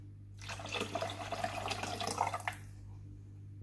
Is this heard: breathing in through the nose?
no